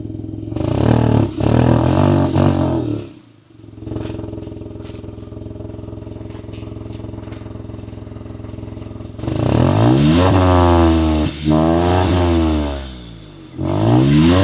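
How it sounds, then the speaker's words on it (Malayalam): Hyundai i20 N Line dual exhaust, loud and close, rising and falling through several revs. A steady idle drone sits between the bursts. "എക്സോസ്റ്റ് നോട്ട് കേട്ടപ്പോൾ നിങ്ങൾക്ക് മനസ്സിലായി എങ്ങനെയുണ്ടെന്നുള്ളത് ശരിക്കും."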